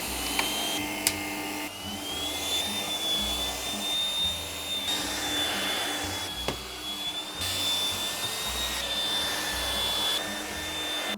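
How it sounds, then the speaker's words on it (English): A vacuum cleaner runs steadily while cleaning under a bed, a continuous close motor drone with a high whine and occasional knocks and bumps, with no voices. "I'm gonna vacuum just under my bed and see what I get"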